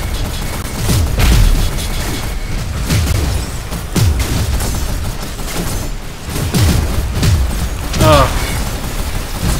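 Gunfire and heavy booms from the online combat game Gear Up, a steady barrage of shots and thumping impacts continuing throughout, loud and busy, with a player's voice talking at times.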